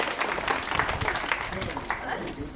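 A crowd at a school alumni teacher-tribute gathering in Channarayapatna claps to welcome a student singer onto the stage, giving steady, moderately loud applause from many hands that gradually tapers toward the end.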